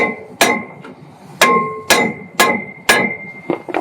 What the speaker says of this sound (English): Sometimes they won't come off. You have to tap on it with a hammer.